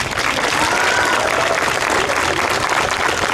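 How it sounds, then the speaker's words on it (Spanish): Large outdoor crowd applauding steadily in Alameda Central, Mexico City, a dense, loud wash of clapping that fills the whole stretch without pause, with faint voices mixed in. "Demuéstramelo con un aplauso"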